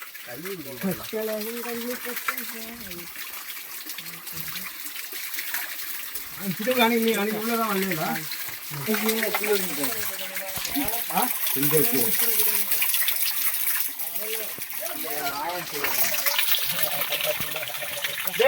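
Steady rushing water of a waterfall at Piranmalai roars throughout as several voices talk and call out over it, nearby and fairly loud.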